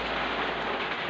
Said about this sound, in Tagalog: Ang lakas po ng ulan talaga